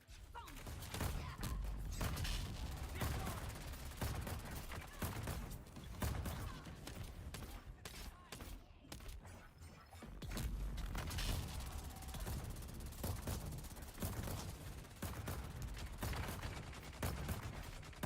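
Turrets in the video game Dune fire continuously, a dense, loud mechanical rattle of rapid shots that runs almost without pause, with only a short dip partway through.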